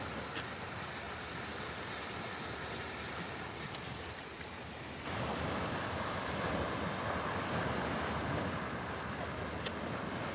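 Ocean surf washing onto the beach at Lauderdale by the Sea, Florida, a steady broadband rush with wind buffeting the microphone, growing louder and fuller about halfway through.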